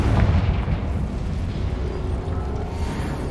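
A Confringo fire spell detonating in Hogwarts Legacy, a loud booming burst at the start that trails into a sustained low rumble for a few seconds, with no voices.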